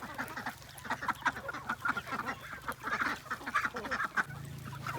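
Ducks at a duck farm quacking and honking in a dense, continuous chorus, many birds calling at once at moderate distance, with a low steady hum beneath.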